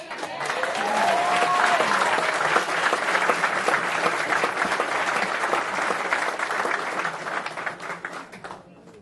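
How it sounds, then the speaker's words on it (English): Sustained applause from a large audience at a law school graduation ceremony, loud and even, slowly fading toward the end. "Who also should get another round of applause because of all the work he did"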